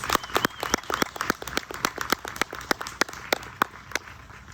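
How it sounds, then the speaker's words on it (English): Audience applause at a radio show held at the Union County Heritage Museum in New Albany, Mississippi, a smattering of distinct sharp claps in an irregular, fairly sparse rhythm, moderately close and without talk. "let's give her a round of applause"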